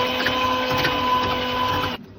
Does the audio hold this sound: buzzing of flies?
no